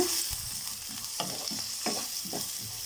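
Chopped onion and green chillies sauté in oil in a kadai for egg kothu parotta. A steady sizzle runs throughout, broken by several distinct spatula scrapes and stirs, with no voices.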